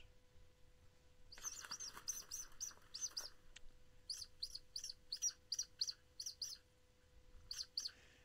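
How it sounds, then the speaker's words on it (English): Outdoors beside the water during a fishing trip, a bird chirps in quick repeated squeaky bursts, clear and fairly close, with pauses between phrases over a soft ambient hush. "I heard that bird"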